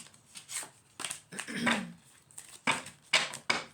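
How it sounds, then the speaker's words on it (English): Tarot cards are pulled and shuffled by hand in several quick bursts of papery riffling and slapping, close and fairly quiet, with short pauses between them. "Let me pull some more cards here."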